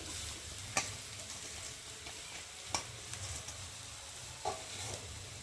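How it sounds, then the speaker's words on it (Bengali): Chow mein noodles being stirred in a pan, heard as a faint, steady sizzle with a few sharp ticks and scrapes from the stirring spaced a couple of seconds apart. "যে চাউমিনটা আছে ওপর থেকে দিয়ে দেবো।"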